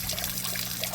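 Water draining down through an aquaponics grow bed filled with clay pebbles and sand, a soft, brief trickle and gurgle heard close and quiet.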